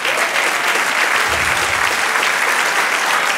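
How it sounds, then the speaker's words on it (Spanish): A church congregation applauds during a sermon, a loud, dense and steady roar of clapping hands that lasts several seconds with no talk over it. "Dele aplauso al Señor."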